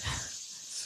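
A single sneeze bursts out loud and close at the start, then fades into quiet breathy room noise, during a nighttime walk in the woods.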